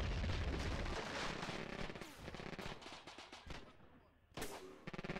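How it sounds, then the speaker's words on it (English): 76mm anti-tank guns fire during a Graviteam wargame battle, with loud booming shots and dense rapid gunfire overlapping throughout, plus a heavy burst near the end, with no talking over it. "I believe these AT guns are 76mm, so they're going to be pretty effective at taking out those APCs."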